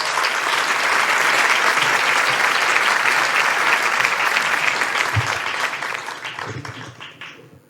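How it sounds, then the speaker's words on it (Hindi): Loud, dense applause from a large audience welcoming a poet to the stage at a kavi sammelan, sustained for several seconds before gradually dying away. "जोरदार तालियों से प्रबुद्ध सौरभ को बुलाएं।"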